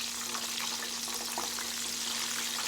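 Mushrooms frying in oil in a pan while being stirred around, giving a steady, dense sizzle with faint clinks that continues without a break and with no talk.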